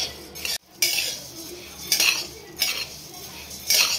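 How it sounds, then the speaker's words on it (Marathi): Coriander seeds roasting in a dry pan are stirred in repeated scraping, rattling strokes, about four bursts with brief pauses between, close and fairly loud, with no talking. "आपले धने जवळपास भाजत आलेले आहेत।"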